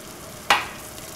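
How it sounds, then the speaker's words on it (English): Crushed garlic hits hot oil with cumin seeds, coriander seeds and cardamom in a pan, a single sudden loud sizzle that quickly fades into a steady frying hiss. "Add crushed garlic to it."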